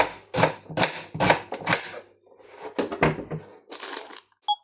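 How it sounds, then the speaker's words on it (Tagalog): Garlic being sliced with a knife on a cutting board in a home kitchen, a series of sharp, close chopping taps in uneven bursts with brief pauses between them. "Nag-slice ako ng bawang."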